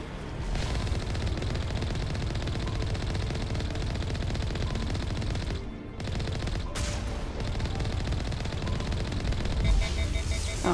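Dense, continuous rapid gunfire from turrets in the video game Mass Effect Legendary Edition, loud and sustained with a brief dip midway and no talk over it.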